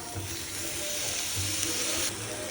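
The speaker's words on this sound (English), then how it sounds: "I'm gonna start cutting them up into pieces and we'll throw them back in there and saute them up" Food sautés steadily in a hot skillet, a continuous close sizzle with a soft hiss that swells slightly toward the end, no voices over it.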